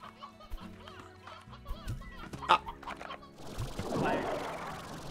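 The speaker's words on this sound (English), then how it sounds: "See, look, there's, like, 10 roosters over here." Roosters in the video game Slime Rancher give a string of clucks and squawks. The calls are quick and fairly near, and a burst of noise rises toward the end.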